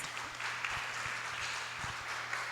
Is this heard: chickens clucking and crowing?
no